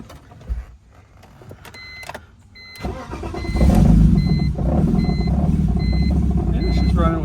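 Turbocharged BMW 330ci engine cranking and catching, then running with a rough, low rumbling idle alongside repeating warning chimes, close and loud after a few seconds of quieter shop noise and brief talk.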